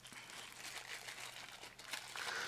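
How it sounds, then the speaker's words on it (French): Plastic packaging crinkles and rustles close up while a Vapor Storm Puma vape box is unwrapped, a continuous soft crumpling with a few sharper crackles, no talking. "On va déballer ça."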